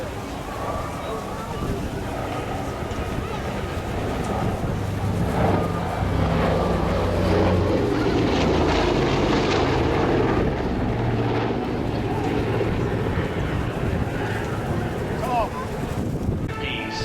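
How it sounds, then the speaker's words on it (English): A Lockheed Super Constellation piston-engine propeller airliner takes off and turns at the Avalon Air Show, a steady loud engine roar with wind buffeting throughout, swelling mid-way while a voice talks over it on the public address. "as we watch the Super Constellation take off and turn for fantastic engines"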